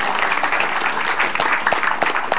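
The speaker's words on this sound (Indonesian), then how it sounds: "Tepuk tangan buat Bang Semi." Audience applause at a stand-up comedy show in Indonesia, dense, loud clapping from a close crowd that stays sustained for the whole stretch with a few sharper claps standing out.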